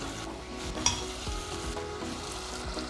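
A carrot mixture with ghee, sugar and water sizzles and fries in a pan as a spoon stirs it, with soft scraping strokes and a few sharper clinks over a steady bubbling hiss.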